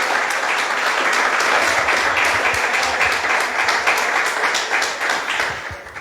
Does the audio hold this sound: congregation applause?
yes